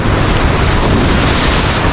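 Sea waves break against rock formations at Bangol Crags on a beach in Aloleng, Agno, Pangasinan, a loud, close, continuous roar of surf with wind buffeting the microphone.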